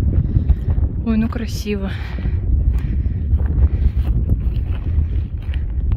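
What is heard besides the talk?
wind in the mountains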